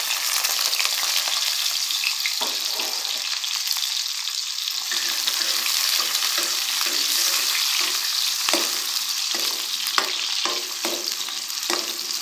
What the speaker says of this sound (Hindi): ऑयल हमारा गर्म हो गया है और अब मैं इसमें ऐड कर रही हूँ 1 अदद प्याज